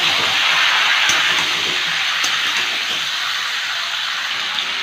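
Sliced vegetables, including Malabar spinach stalks with salt and turmeric, sizzle and hiss steadily in a pan of hot oil: a loud, continuous broadband frying sound with a few faint clinks, and no voices.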